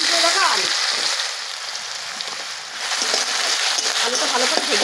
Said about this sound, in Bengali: আলুটা ভালো করে ভেজে দেবো